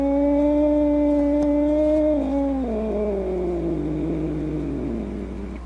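A cat gives a long, drawn-out wailing meow, close and loud, its pitch sliding slowly downward and fading toward the end over steady low background hum.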